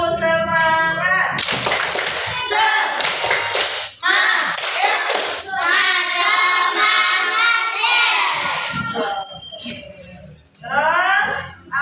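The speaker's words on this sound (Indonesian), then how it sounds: "Tepuk semangat." A class of schoolchildren performs a rhythmic Indonesian spirit clap, sharp, close hand claps in quick patterned bursts mixed with loud group chanting and shouts, pausing briefly between rounds.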